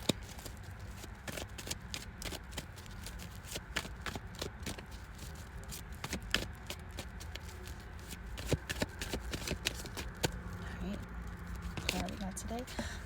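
Tarot cards being shuffled close up, with a quiet, continuous run of soft riffling and crisp flicking snaps that come in irregular bursts, recorded at low level with no talking over it.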